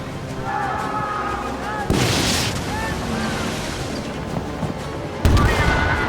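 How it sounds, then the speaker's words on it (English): Ship mortars firing during naval combat in the pirate game Skull and Bones, two heavy booming blasts with broadband bursts over constant wind and sea noise, with game music tones running underneath. "I want to use my mortars"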